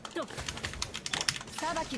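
Rapid clacking of a computer keyboard being typed on, steady and close, with a voice briefly heard alongside the keystrokes.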